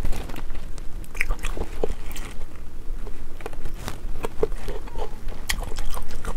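Close, crunchy biting and wet chewing of braised soy-sauce-flavored duck tongue, with tender bones crunched as well, repeated bites in a steady rhythm with no talking.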